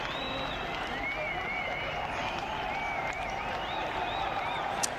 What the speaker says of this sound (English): Grandstand. All chanting.